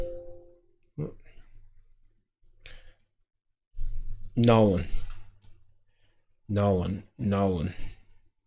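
Sparse clicks of a computer keyboard come as someone types a domain name, each tap faint and separate, with a person talking between the bursts of keystrokes.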